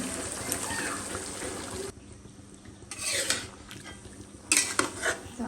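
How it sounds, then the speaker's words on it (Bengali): Potatoes are added to meat in a cooking pot, with close metallic clatter and scraping of a spoon against the pot coming in three distinct bursts over a faint sizzle. "মাংসের সাথে আলু দিয়ে দিচ্ছি"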